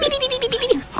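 Goats being taken out to graze give a loud, close bleat, a quavering, pulsing cry lasting under a second, followed by a softer sound.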